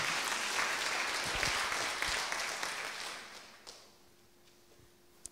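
Church congregation at a prayer meeting claps for the Lord: moderate, dense applause that fades over a few seconds into a quiet room with a faint hum, a final sharp clap at the end.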